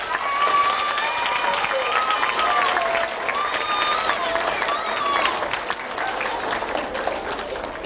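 An audience at a school celebration claps steadily in a big round of applause, with cheering and a few voices calling out over the clapping before it eases slightly.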